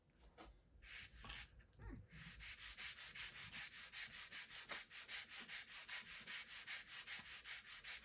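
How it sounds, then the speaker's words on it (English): A part for a Crossfire engine mount is sanded by hand with steady back-and-forth rubbing strokes, close and rhythmic, after a few irregular scrapes at the start. "And then we'll spin that around and sand this side."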